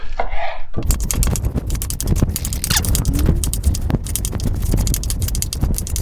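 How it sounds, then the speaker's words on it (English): Drained tinned artichoke hearts are chopped on a board with a knife, a rapid run of crisp, close knocks coming after a brief quiet moment and continuing steadily to the end, with no talk. "Then we just want to chop these up."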